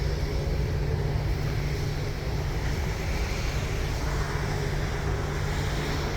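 Constant wind roaring across the microphone with a low rumble during the first snowfall, steady and unbroken, no voices.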